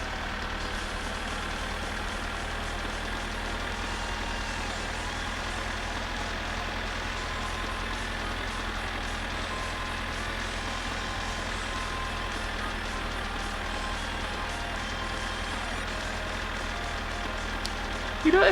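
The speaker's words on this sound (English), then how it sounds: "I've been listening to this tractor engine for 2 hours." A tractor engine in My Summer Car idles on and on, a steady low diesel drone with a faint buzzing overtone, constant and unchanging for the whole stretch, with a brief knock at the end.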